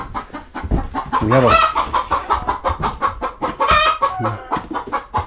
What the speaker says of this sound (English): We have a few chicken also laying eggs.